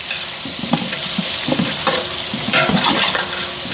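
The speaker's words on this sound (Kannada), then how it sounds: "ಈರುಳ್ಳಿ ಚೆನ್ನಾಗಿ ಫ್ರೈ ಆಗಲಿ" Chopped onions fry for chicken biryani while a spoon stirs them through the pan, a loud continuous sizzle broken by scraping strokes, with no voices.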